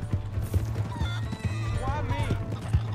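Horse neighing and hooves clip-clopping in the open-world western video game Red Dead Redemption 2, steady hoofbeats running throughout with a whinny, heard alongside game dialogue and ambient music.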